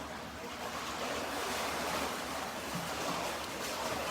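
Swim spa jets running on a high setting, producing a steady, loud rush of churning water and broadband turbulence that continues unbroken throughout.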